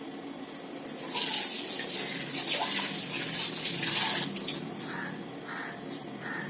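Water poured from a bowl into a pan to make sugar syrup for sweet laddus, a steady close splashing pour with a few short bursts, no voices.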